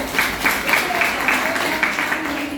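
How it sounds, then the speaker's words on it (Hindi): Audience applause during an education talk: a steady wash of clapping from many hands, moderately loud and continuous, with a voice faintly mixed in. "बहुत बढ़िया तालियां होनी चाहिए मैम के लिए"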